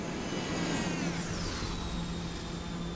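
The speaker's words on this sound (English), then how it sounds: "Look at the jet. I hear him." A jet aircraft in Microsoft Flight Simulator sweeps past with a steady roaring whine whose pitch drops sharply as it passes, loud and continuous against the game's engine drone.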